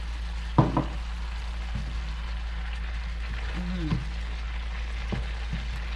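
Sesame oil goes into pork stir-fried with oyster sauce and mushrooms in a pan, giving a steady low sizzle with a few soft clinks and taps of utensils against the pan.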